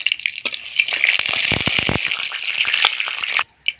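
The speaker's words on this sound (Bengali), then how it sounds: "রান্না করার জন্য আমি পরিমাণ মতন তেল দিয়ে দিচ্ছি। শুকনো লঙ্কা, তেজপাতা," Dried red chilies and bay leaves go into hot oil for a goat-fat ghugni and set off a loud, close, crackling sizzle with bursts of sputtering. The sizzle cuts off abruptly near the end.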